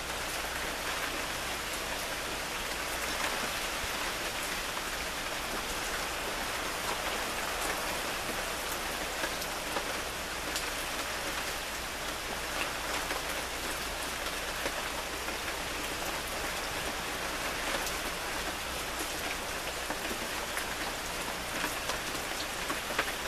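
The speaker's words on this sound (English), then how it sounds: "Rain. Wow. It can actually rain here." Rain falls steadily in a video game world, an even, dense hiss of drops that holds unchanged throughout with no voices over it.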